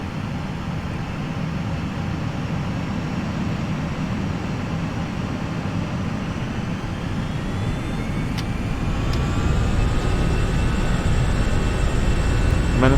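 Jet engines of a Lufthansa Airbus A320 in a flight simulator spool up for takeoff, a steady loud roar that builds gradually, with rising whine tones emerging toward the end.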